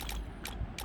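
A spin wheel in the Free Fire mobile game turns with quick, rapid ratcheting clicks that repeat in a brief burst.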